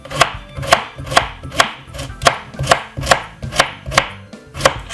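A knife slicing cucumber on a cutting board, about ten crisp, evenly spaced chops in a steady rhythm, close and clear with no talking.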